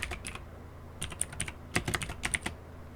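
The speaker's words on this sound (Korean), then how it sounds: "텍스트 상태에서 몇 자를 써볼게요" Text being typed on a computer keyboard in Korean-language design software: short bursts of light, close key clicks in irregular clusters with brief pauses between, quiet and without speech.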